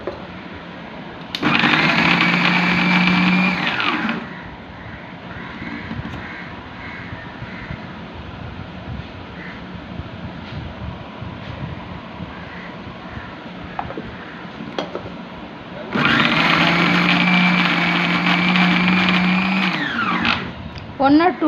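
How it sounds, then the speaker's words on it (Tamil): A kitchen mixer grinder blends homemade mayonnaise from oil and sugar in two loud, whirring bursts of a few seconds each. A person talks in the quieter stretch between them. "ஒன் ஆர் 2 டைம்ஸ் நம்ம மிக்ஸியை ரன் பண்ணாலே போதும்."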